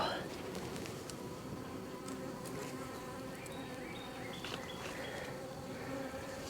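Honey bees buzzing on a full honey frame pulled from a hive, a dense close swarm drone that holds steady and continuous, with a few louder individual bees passing near.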